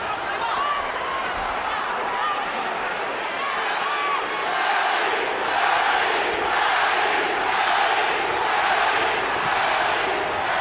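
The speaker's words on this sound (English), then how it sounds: "And you hear the adoration of the crowd." A large crowd roars steadily in a boxing arena before a Pacquiao–Diaz fight, a dense continuous wash of cheering and shouting that swells slightly midway without pause.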